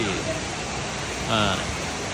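Iskandar waterfall in the Cameron Highlands, Malaysia, running strong near the rainy season, gives a constant broadband rush of water close by, with a voice speaking over it.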